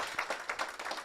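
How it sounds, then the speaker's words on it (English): Audience applause at a congregational installation service, a short burst of clapping with uneven peaks, moderately near and without speech. "that deserves some applause"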